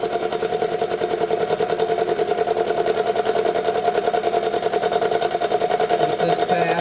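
Milling machine cutting a GMC motorhome intake manifold flat, about an eighth of an inch per pass: a steady, loud mechanical whir with a fine rhythmic chatter that continues unbroken throughout.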